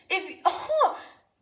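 A single short sneeze bursts out amid a woman's chatter, near and fairly loud, followed by a brief pause and more talking.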